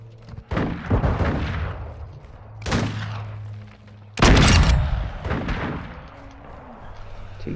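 Shotgun blasts in a first-person shooter on a Blacksite map, several sharp loud booms spaced irregularly with a steady game hum beneath, no speech over them.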